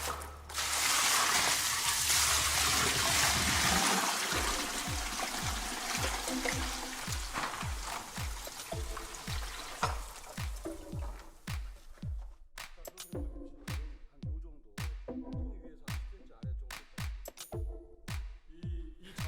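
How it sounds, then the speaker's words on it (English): About 50 liters of water rushes in all at once while melting sulfur for a homemade organic fungicide, a loud continuous gush that fades after a few seconds into rapid, regular clicking and ticking that carries on to the end. "Pour all the water at once."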